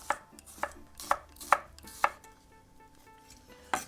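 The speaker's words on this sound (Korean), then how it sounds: "마늘도 적당히 점여주겠습니다" Garlic being chopped with a knife on a cutting board for a vegan whole wheat pizza bread: about seven sharp, separate knife strikes in an uneven rhythm, close and fairly loud, with no talking.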